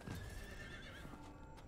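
A horse in the video game Diablo IV neighs with a short whinny over soft hoof clops, close and alone without talk.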